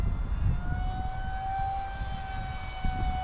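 An Eclipson Inferno model jet climbs during a maiden flight, its engine giving a steady, high-pitched whine over a low rumble of wind and outdoor background noise.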